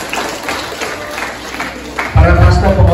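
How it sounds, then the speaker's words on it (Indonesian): Applause breaks out loudly for the congregation at a Christmas women's ministry church service, starting after a stretch of quieter crowd noise and voices and continuing as a dense, sustained wash of clapping to the end. "mari kita berikan tepuk tangan untuk semua jemaat Tuhan yang hadir pada hari ini"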